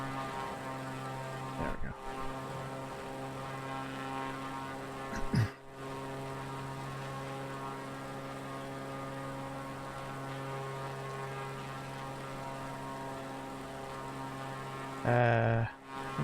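A steady propeller aircraft engine drone in PUBG, flying over the UK, holding a constant pitch for the whole stretch with a few brief dropouts and a short spoken remark near the end.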